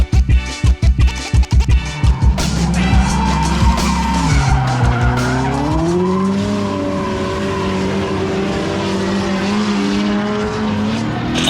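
An STI-swapped Subaru Forester drift car revs hard, then its tires squeal loudly in a long, wavering skid as the engine holds high revs through the drift.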